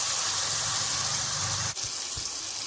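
Water is poured into a cooking pot of wuggani as it simmers, a steady broadband gush that runs loud and continuous, then cuts off abruptly with a couple of brief clunks afterward.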